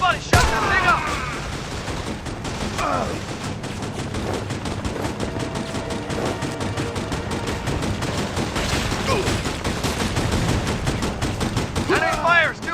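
Video game gunfire rattles on throughout as dense bursts of rapid shots and crackling fire under a busy battle soundscape. It is moderately loud and continuous, with voices occasionally heard over the fighting.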